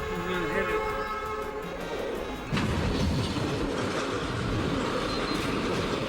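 A train rolls past on the tracks after striking a car, a steady rumble that swells loudly about halfway through, with a horn-like tone at the start.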